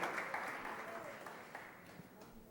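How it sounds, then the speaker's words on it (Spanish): Congregation applauding in a church, a dense continuous patter of clapping from a crowd, fairly faint and distant, holding steady and tapering slightly toward the end. "Démosle un aplauso al Señor Jesucristo."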